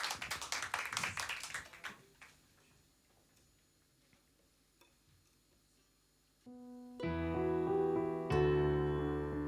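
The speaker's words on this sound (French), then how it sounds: "On les applaudit bien fort tous les deux." Applause for two singers fades out over the first two seconds, then comes a quiet pause before sustained tonal music starts.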